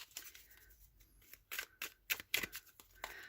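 A deck of tarot cards is shuffled by hand, producing soft, irregular riffling and flicking bursts that grow busier toward the end, close and fairly quiet, with no talking.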